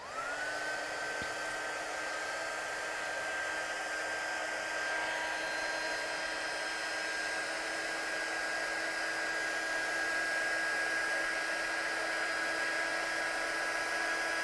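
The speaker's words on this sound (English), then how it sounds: "So let's heat set that now and make it all nice and glossy." A heat gun runs in a steady, loud whirring blow while heat-setting embossing powder through a stencil until it turns glossy, continuous throughout with no speech.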